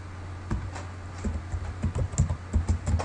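Typing on a computer keyboard to enter a function name in a spreadsheet, a close run of irregular light key clicks with no talk.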